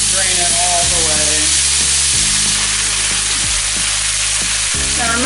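Undrained pasta hits a hot pan of crispy pork for spaghetti carbonara, giving a loud, steady frying sizzle with repeated stirring scrapes, close and continuous with no talk.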